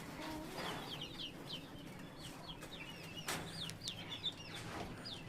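Chickens clucking on a small egg-laying poultry farm, faint scattered clucks and chirps from several hens over a low steady background hum.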